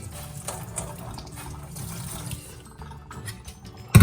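Running cold tap water splashes over freshly curdled paneer in a sink, rinsing off vinegar, with soft handling noises and a louder burst of water at the end.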